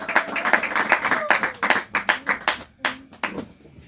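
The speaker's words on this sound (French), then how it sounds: "Can we clap for the glory of Est-ce que nous God?" Church congregation clapping together in a steady rhythm of sharp hand claps, loud and close, with a few scattered claps as the applause tapers off near the end.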